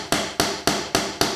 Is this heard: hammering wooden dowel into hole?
yes